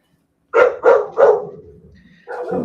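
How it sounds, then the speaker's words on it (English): A dog barks three times in quick succession, loud and close, then gives a trailing whine, followed by one more bark after a short pause. "my dogs heard their dogs"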